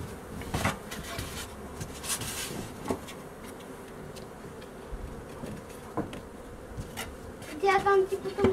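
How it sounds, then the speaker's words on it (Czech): A strong honeybee colony hums steadily during a spring hive inspection, with occasional close bees buzzing past and faint handling noises. Soft talk is heard in the background. "je to silné včelstvo"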